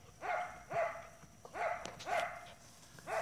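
A puppy from a litter gives several soft, high yelps and whimpers in an uneven rhythm, faint and close, with no talk over them.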